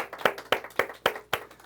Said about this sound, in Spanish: Un aplauso para el Eterno,